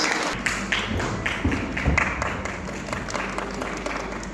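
Audience applause at a human rights seminar held by a human rights organisation, steady clapping from a crowd throughout with a few louder claps and thumps standing out.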